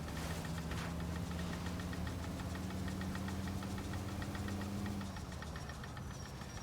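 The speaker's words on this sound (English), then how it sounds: "You hear the engine starting to do that? It's starting to make that choppy noise." A rough, choppy car engine in the video game L.A. Noire, with the car on fire, knocks and sputters steadily under a low droning hum, loud and continuous throughout.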